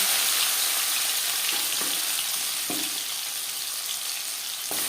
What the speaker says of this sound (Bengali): তিন চামচ সর্ষার তেল গরম করে নেওয়ার পর দিয়ে দেব ম্যারিনেট করে রাখা চিকেন